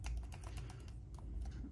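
Keys of a computer keyboard tapped in quick, uneven bursts of clicks close by, over a low steady hum, with no voices.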